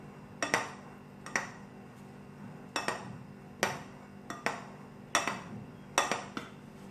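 Dry spices and fenugreek are mixed for Punjabi missi roti dough with a utensil against a bowl, making a series of light, close clinks and taps at an irregular rhythm in a quiet kitchen without talking.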